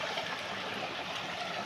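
Water streaming at the Vadakku Pachaiyar dam falls, a steady, dense rush that stays close and even throughout, with no voices over it.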